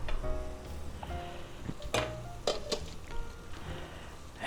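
An omelet cooks in a covered pan, giving a soft steady sizzle with a few brief clinks and knocks partway through.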